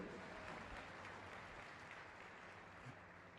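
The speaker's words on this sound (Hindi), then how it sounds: "ताली बजाओ परमेश्वर के लिए जोर से" A church congregation claps loudly and continuously during a Hindi-language worship service, a dense, even patter of many hands with no pauses.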